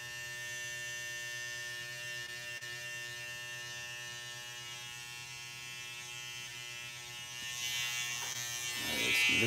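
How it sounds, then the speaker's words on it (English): An electric hair trimmer buzzes steadily as it clips neck hair during a self-haircut, a thin, constant electric hum that grows rougher and louder near the end as the blades bite into hair. "So I'll just go in with my trimmer and clean up the neck hair first."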